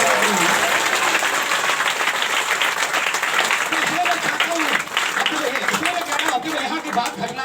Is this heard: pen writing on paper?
no